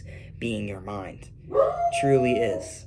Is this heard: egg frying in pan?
no